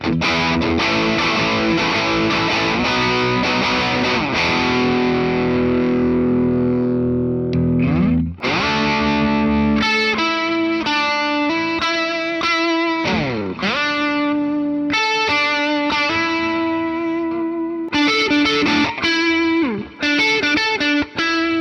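A 2002 Gibson 1968 Reissue Les Paul played through its bridge pickup with heavy distortion, sustained driven chords and riffs ringing loud and close with no talking.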